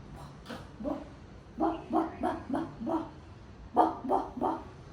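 A voice imitates a dog barking, giving short woof sounds in quick bursts of two to four with brief pauses, close and clear.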